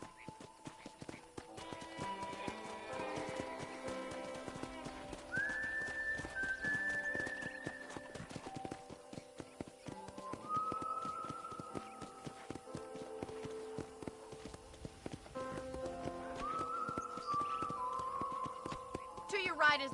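Horse hooves clip-clop at a walking pace on a ranch in the video game Red Dead Redemption, rhythmic and fairly quiet under background music and a voice talking.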